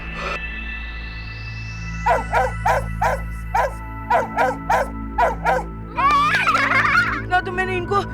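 Several dogs bark in a rapid string of sharp, evenly spaced barks over a steady low hum, then a burst of louder, overlapping yips and yelps as the dogs chase after Montu.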